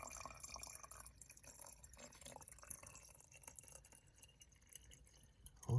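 Homemade nitro fuel is poured into a measuring container up to the 500 ml mark, a quiet, steady liquid trickle with faint drips, heard close and without speech.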